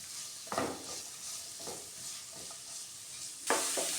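Green chilli and curry leaves fry in a pan for egg roast, a quiet steady sizzle broken by a few distinct stirring scrapes, the last one louder near the end, with no voices.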